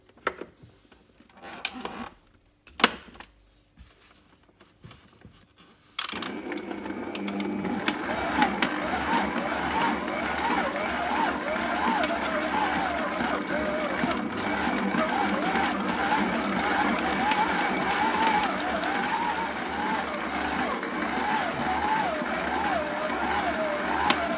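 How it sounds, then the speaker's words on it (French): A stand mixer kneads brioche dough with softened butter until the ball pulls away from the bowl, a steady mechanical whir and knocking hum running continuously after a few scattered clanks at the start. "on pétrit jusqu'à ce que la boule de pâte soit formée et soit bien décollée des parois du robot"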